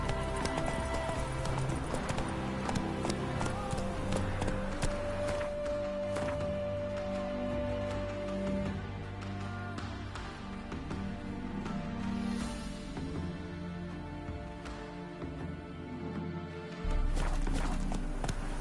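Horse hooves clip-clopping at a steady pace in The Witcher 3, rhythmic and continuous under game music and ambience.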